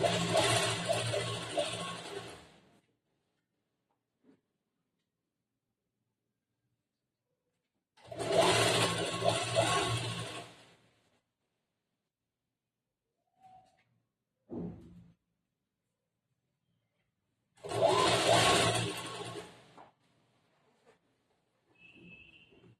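A sewing machine stitching the folded hem of a long umbrella frock, running in three separate bursts of a few seconds each. The runs are separated by silent pauses and a few faint handling clicks.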